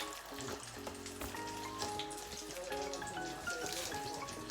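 Seasoned salmon deep frying in a pan of oil, a continuous bubbling sizzle with faint tonal hum underneath, steady and fairly quiet, no talking.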